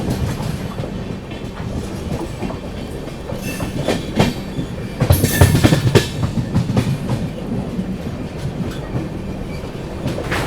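The 12615 Grand Trunk Express, a passenger train from Chennai to New Delhi, rolls along with a steady clickety-clack of wheels on rails, swelling louder for a moment midway before settling back into a constant rumble.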